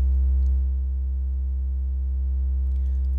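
A synthesizer sustains a loud, very low-pitched triangle wave as a steady, unbroken hum with stacked overtones, heard alone without speech.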